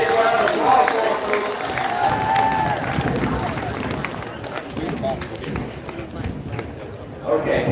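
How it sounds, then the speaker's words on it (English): Applause and cheering from the crowd at an outdoor woodchopping festival, a steady wash of clapping under loud announcer talk, slowly fading near the end. "There it is, big round of applause for him"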